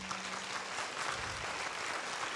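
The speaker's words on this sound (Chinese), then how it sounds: "再给他一个最大的掌声好不好？" Lecture-hall audience at a university talk giving a big round of applause, a continuous moderately loud patter of many clapping hands with a faint low hum beneath.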